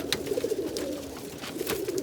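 Giribaz pigeons at feeding time coo softly in a low, repeated burbling, two faint bursts separated by a pause, with light scuffling and clicks around them.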